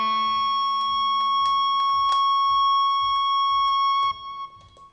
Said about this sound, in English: that to me sounds like quite a natural sort of amp feedback sound